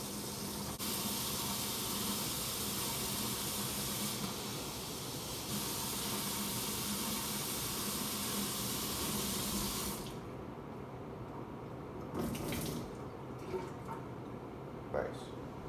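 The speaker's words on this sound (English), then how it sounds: "So I'm going to turn on the tap to hot." Hot water gushes from a kitchen tap in a steady, full hiss for about ten seconds, then cuts off, leaving quieter dripping and a few light clinks at the sink.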